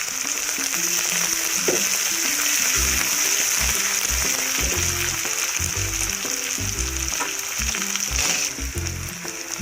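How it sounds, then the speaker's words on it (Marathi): Pandharpuri dal frying in oil, a constant crackling sizzle with scraping and clinking from stirring in the pan, fading slightly near the end. "तेलात पण टाकायची एक बाजू पंढरपुरी डाळ टाकली ते पण छान आपली परतून घेऊया"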